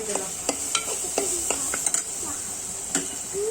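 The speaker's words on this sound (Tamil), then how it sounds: "சேர்த்து நல்லா கிண்டிக்கணும். பச்சை மிளகாய்," A spoon stirs fish kulambu with ground coriander and green chillies in a pan, giving repeated quick scraping clicks over a soft steady sizzle, close up, with no talking.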